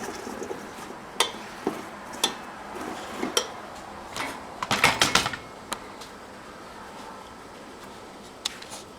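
Roasted potatoes and mushrooms tossed together in a bowl, giving a scattered run of light clicks and clacks, irregular and close, with a brief cluster of quicker taps midway, over quiet room tone.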